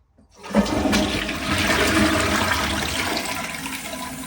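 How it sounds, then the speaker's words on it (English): A Glacier Bay Power Flush toilet flushes on its first use after installation, a loud rushing surge of water that starts abruptly and keeps roaring steadily, close by and alone. "let's do our first flush of it"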